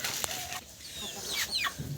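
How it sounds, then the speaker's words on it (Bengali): Desi hens perched on a branch on a poultry farm kept alongside broiler chickens give a few short nearby clucks and chirpy calls, with a brief rustle like flapping wings. "দেশি মুরগির অবস্থা এই যে ডালে উঠে বসে আছে"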